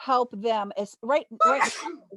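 Someone talks briefly, then a single sharp sneeze bursts out close to the microphone at the end of the phrase.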